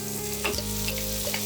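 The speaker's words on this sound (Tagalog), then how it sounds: "Once sauteed the garlic and the onion, add the special ground beef." Ground beef sautéing in a pan with garlic and onion for Filipino-style meaty spaghetti, a steady close sizzle with a few stirring scrapes, no talk.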